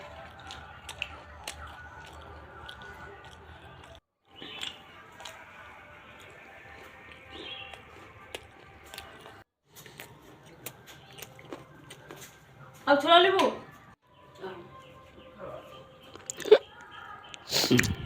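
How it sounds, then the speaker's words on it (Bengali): Roasted chickpeas being chewed, with scattered, fairly quiet crunches and bites; a few louder crunching bursts come near the end over a soft background. "ছোলা খাওয়া শুরু করে দিয়েছি, এই ছোলা খাচ্ছি।"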